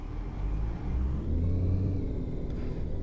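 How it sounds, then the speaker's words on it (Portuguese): A taxi engine in the Taxi Life city driving simulator rumbles into life and settles into a steady, low idle with a faint whir, heard alone at moderate volume. "Para começar, eu ligo o motor."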